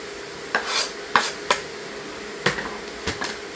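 Garlic sautéing in a pan, a faint sizzle underneath several distinct spoon scrapes and clacks against the metal spaced unevenly, nearby and without talk.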